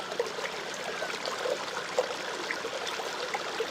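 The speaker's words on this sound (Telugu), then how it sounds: "రిథమెటిక్గా పారుతున్న జలం చేసే శబ్దాల్ని జాగ్రత్తగా గమనించాలి" Steadily flowing water makes a soft, continuous trickling rush with faint splashy ripples, low in level and without any voices.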